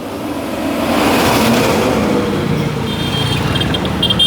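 A car approaching along a street in Yaoundé, Cameroon, its engine and tyre noise rising to a steady loud roar that fills the clip, with no talk.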